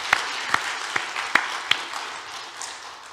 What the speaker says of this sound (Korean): 함께 수고해 주신 분들을 위해 박수 한번